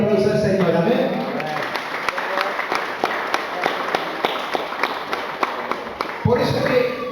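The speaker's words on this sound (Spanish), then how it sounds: "¿Cuántos le dan un aplauso al Señor?" Church congregation clapping in praise, a run of rhythmic, evenly spaced claps over a crowd murmur, with a voice speaking before and after the applause.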